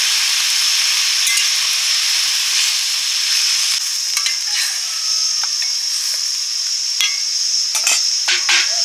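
Water poured into a pan of Bengali village-style fish curry with pointed gourd, raising a loud continuous hiss and sizzle close up, with a few light clinks toward the end.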